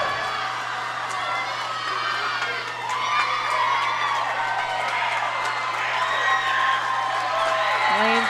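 Crowd cheering and shouting at a close girls' high school swimming heat, Moorhead vs Elk River, loud sustained whoops and high-pitched yells building through the clip inside an echoing pool with a steady hum underneath.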